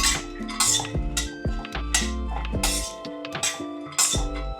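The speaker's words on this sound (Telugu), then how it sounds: "నెక్స్ట్ వాల్నట్స్, ఆల్మండ్స్ రెండు కలిపి వేయించుకోవచ్చు." Walnuts and almonds are roasted together in a pan and stirred, producing a rhythmic series of close metallic clinks and rattles as a utensil strikes the pan and the nuts tumble, with no talk.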